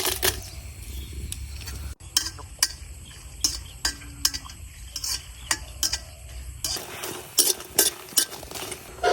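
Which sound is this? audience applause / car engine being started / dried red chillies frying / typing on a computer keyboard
dried red chillies frying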